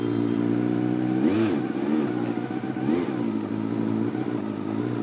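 A 400cc Honda CBR 400 superbike engine idles loudly up close, with several short, sharp throttle blips rising and falling over a steady rumble.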